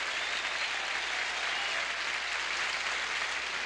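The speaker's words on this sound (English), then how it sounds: "So how about a big round of applause for Julia Colby?" A studio audience at a 1975 syndicated television program applauds steadily, a dense, even wash of many clapping hands filling the room without pause.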